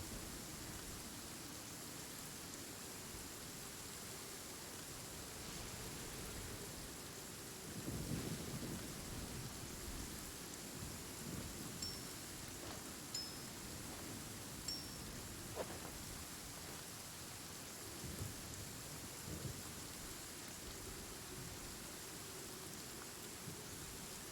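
Steady rain with occasional thunder rumbles in a video game, a continuous wash of rainfall with a louder swell near the middle and soft low rolls, no talking.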